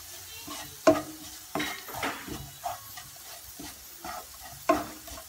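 Fenugreek powder frying in oil in a pan while being stirred, with repeated scraping and clinking strokes over a soft, steady sizzle, close and moderately loud.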